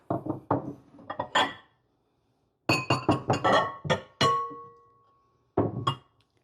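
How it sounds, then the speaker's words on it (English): Ceramic bowls clink and knock together as one is flipped over and stacked inside another on a hutch, a series of sharp close taps in bursts with pauses between, one ringing briefly. "I'm just going to flip one over and put it inside the bottom bowl"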